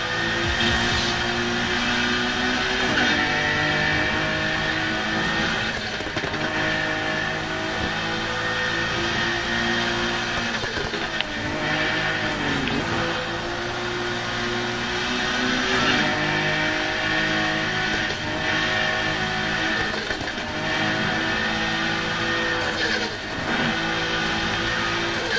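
A car engine with a loud turbo roars continuously during a midnight street race in Need for Speed Heat, revving and shifting under sustained acceleration, with whooshes and spool sounds throughout.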